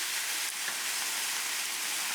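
Vinegar hitting a hot pan with garlic, giving a steady, loud hiss of sizzling that fills the clip without letup and with no talking.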